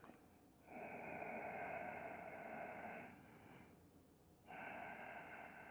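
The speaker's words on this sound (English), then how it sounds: "You can make a sighing noise with your breath," Ujjayi yoga breathing with a sighing noise: long, soft, airy breaths drawn slowly in and out through a constricted throat, close and quiet, with a short pause between two drawn-out breaths.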